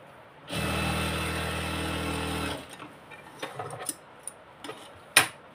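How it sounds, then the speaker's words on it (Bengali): A sewing machine runs a steady two-second burst stitching a salwar seam, loud and even, then stops; afterward come faint clicks and handling noises of fabric and machine. "এখানে একটু ডাবল সেলাই দিব, যেহেতু এখানে ফিতাটা থাকবে"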